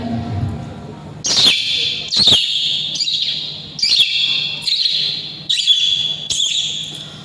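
A voice imitates birds calling in a tree: a string of high, whistled chirps, repeated six or seven times in short bursts, close and clear, in a mimicry competition performance.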